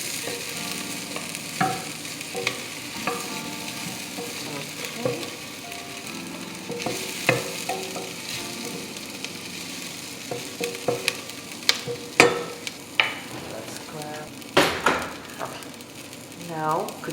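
Onion, garlic and ginger fry with red curry paste for a Thai noodle soup. A continuous sizzle runs under frequent spatula scrapes and clinks that grow busier toward the end, with faint voices in the background.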